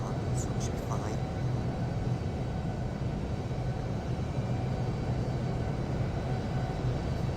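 An airliner in the Infinite Flight game takes off from Newark runway 4 left, a steady broadband engine roar with a low rumble throughout and faint voice-like sounds over it.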